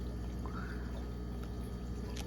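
Water flows steadily into an aquaponics grow bed, a continuous close pouring and trickling wash with no break.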